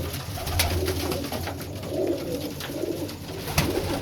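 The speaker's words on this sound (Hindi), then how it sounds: "ये उनके ब्रीडर कबूतर हैं जी" Breeder pigeons coo repeatedly at close range in a breeding cage, low soft throaty calls overlapping over a steady background hum.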